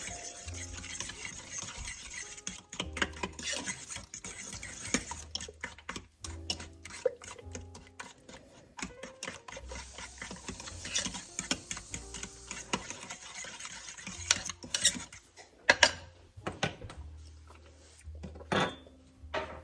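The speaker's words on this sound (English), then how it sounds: "Now I'm gonna get this all stirred around, get it started to heat up" A spoon scrapes and knocks around inside a crockpot, stirring ingredients in uneven bursts of clicks and taps, close up with no talking.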